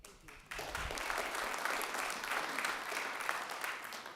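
Applause breaks out at a Rotary community grant awards event, starting abruptly after a brief quieter moment and continuing as steady, full clapping from a seated audience.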